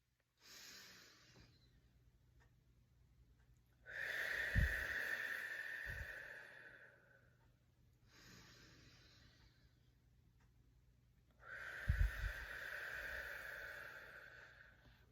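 Slow, deep breaths during a facial exercise routine, in through the nose and out again in two long cycles, close and soft and alone with no voices.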